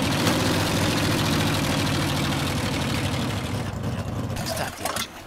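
Truck engine idling in MudRunner, a loud steady low rumble with a knocking texture that holds for several seconds, then drops and cuts out near the end, leaving brief faint clatter.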